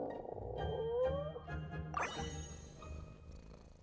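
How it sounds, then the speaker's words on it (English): Lynette, a cat-eared character in Genshin Impact, purrs softly and steadily for a few seconds, followed by a bright chiming tone and light tinkling game sounds. "I love the purr."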